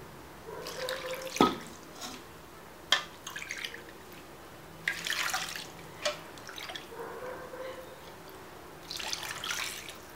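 Water poured in several separate splashing bursts into a homemade chickpea-flour batter for kalinté, each pour brief and close with quiet gaps between, no speech.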